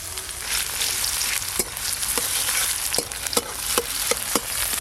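Chopped onion frying in hot oil with bay leaf and dried red chilli in a pan, a loud steady sizzle punctuated by regular clicks of a spatula stirring against the pan.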